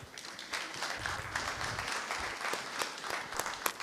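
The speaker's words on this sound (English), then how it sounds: "A round of applause to my panelists." Steady applause from a conference audience after a panel discussion, many hands clapping together at a moderate distance for several seconds without a break.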